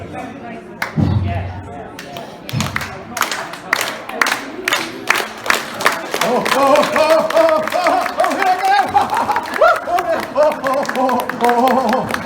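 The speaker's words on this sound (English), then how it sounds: "All I'd like you to do is to clap in time to my wings." An audience at a puppetry festival claps along in time, sharp, evenly spaced claps building into a steady rhythm while a performer talks and sings over them.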